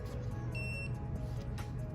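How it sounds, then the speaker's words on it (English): A Catchface smart lock emits a short electronic beep while pairing with its phone app, a single thin tone over quiet room background. "And it beeped, and which means that it should be connecting now."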